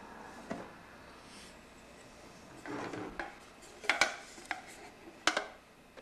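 Nested metal pots from an alcohol camping cookset clink and rattle as they are handled, with a few sharp metallic knocks near the end over quiet background and no talk.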